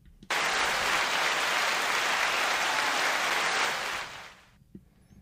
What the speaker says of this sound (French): j'avais juste envie d'appuyer sur le bouton pour applaudir.